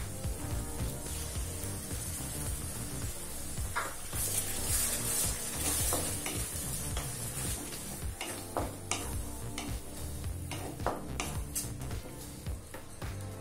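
Tomato-cashew paste for paneer butter masala cooking in a hot pan, giving a continuous sizzle with scattered ticking and scraping of stirring over a steady low background hum.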